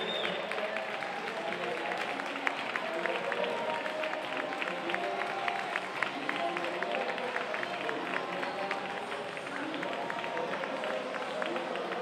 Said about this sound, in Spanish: Un aplauso muy fuerte para ellas.